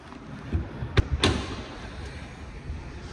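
The hood of a new-generation Land Rover Defender 90 with a 2.0 turbo P300 engine is released: two sharp, close metallic clicks in quick succession, then quiet.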